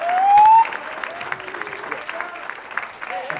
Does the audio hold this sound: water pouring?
no